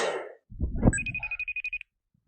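A telephone rings in a quick burst of about eight rapid, evenly spaced electronic trills after a short muffled thump, loud and close with no talking over it.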